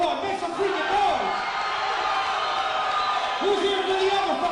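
The crowd at a local fight event roars and cheers in a sustained loud mass of noise while an announcer talks over it with shouted rises.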